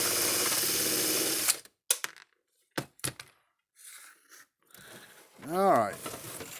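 A ratchet loosens a nut on a Zareba unit, with a loud burst of clicking at first, then scattered sharp clicks and clunks amid quieter gaps, and a voice talking near the end.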